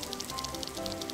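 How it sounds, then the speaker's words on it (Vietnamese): Cartoon rain falls as a steady, even hiss of patter that fills the whole brief moment, moderately loud with no voices. "Ồ, có mưa à?"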